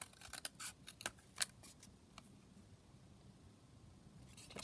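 Scissors cut a picture out of a book, giving a quick run of close, crisp snips and paper rustle that fades into quiet handling.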